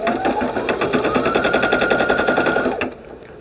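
An embroidery machine fitted with a magnetic hoop stitches at a rapid, steady mechanical rhythm, loud and close with a rising whine, then halts abruptly near the end.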